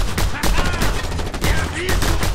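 Automatic rifle fire in the Just Cause 2 video game, a dense, loud burst of rapid shots with a rattling, continuous texture through the whole moment, with game sounds layered underneath.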